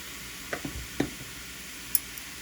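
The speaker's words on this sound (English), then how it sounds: "And mix them up. And then we'll just saute them for a minute." Basil, mushroom, onion and garlic sauté in a pan under a soft steady sizzle, broken by a few light utensil taps and scrapes while stirring.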